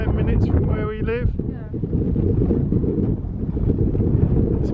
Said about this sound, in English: although it's a bit windy